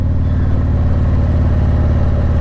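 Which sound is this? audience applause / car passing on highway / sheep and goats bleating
car passing on highway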